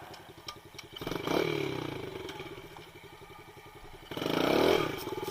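A dirt bike engine chugs at idle, then surges in two loud revving bursts during a wheelie attempt, the second rev rising and falling before settling back to a rough idle.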